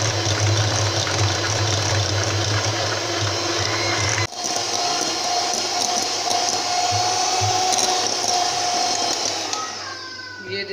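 An electric beater whips cake batter in a bowl with a steady, loud, continuous whir that drops briefly partway through and fades slightly at the end, with no talk over it.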